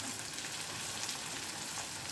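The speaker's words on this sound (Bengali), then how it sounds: "পেঁয়াজটা একটু ভাজা হোক," Chopped onion fries in a pan for a potol chingri bhuna, with a constant bright sizzling hiss and no talk.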